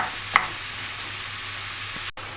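Beef fries in a pan with a steady, soft sizzle throughout, broken by a brief clink of stirring near the start and a short knock toward the end; no talking.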